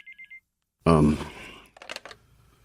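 A mobile phone gives three quick electronic ring beeps, followed by a loud burst of close sound and some clattering.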